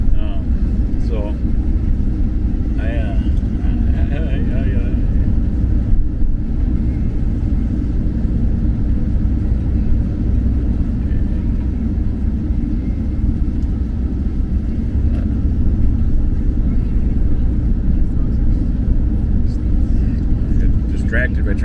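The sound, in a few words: passing traffic on the road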